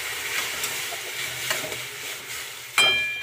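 Water bubbling and simmering in a pan on the stove for Maggi noodles, a steady close hiss with small irregular pops, ending on a sharper louder burst near the end.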